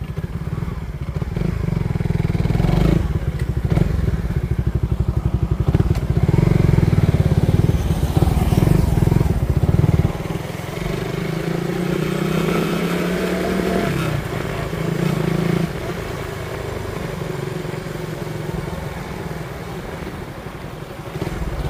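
A Suzuki Raider 150 FI motorcycle drag racing against a Euro Griffin 180, its engine roaring loud and close with a heavy, buzzing drone that drops partway through into a lower, steadier rumble.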